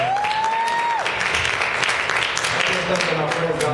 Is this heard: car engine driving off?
no